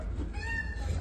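A single short cat meow, from a cat hiding in a car, rises out of a steady low rumble, fairly faint and brief.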